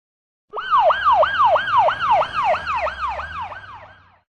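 An ambulance siren starts abruptly with a rapid, repeating yelp that sweeps up and down about a dozen times, loud and close, then fades out alone without any talk.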